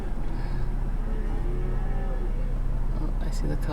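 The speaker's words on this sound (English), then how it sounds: "They're wrangling some cattle" Cattle lowing and mooing during a cattle drive on a mountain plateau, steady herd calls over a constant rumbling background, fairly close.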